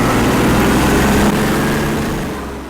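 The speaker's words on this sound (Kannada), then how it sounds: "ಇಂಜಿನ್ ಸ್ಪೀಡ್ ಮಾತ್ರ ಸಕ್ಕತ್ತಾಗಿದೆ ಗುರು. ಮೊದಲೇ ಮಿಸ್ಟುಬಿಷಿ ಇಂಜಿನ್ ಕೇಳಬೇಕಾ?" A 28 HP Captain tractor with a Mitsubishi engine revs at a steady, loud, close roar with deep low rumble, then eases off slightly toward the end.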